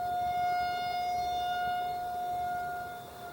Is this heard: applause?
no